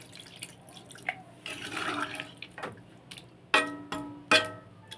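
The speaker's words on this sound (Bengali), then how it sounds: "তো আরেকটু হালকা করে জল দিয়ে দিচ্ছি।" Water poured from a vessel into a cooking pot of meat in a home kitchen, heard as soft splashing and trickling with a few sharper drips and clinks, close and fairly quiet.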